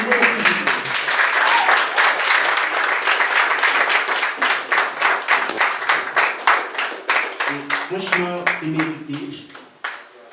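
An audience at an award ceremony honoring a contribution to Haitian cinema applauds: a full, sustained burst that settles into a more rhythmic, unified beat, with a voice speaking near the end.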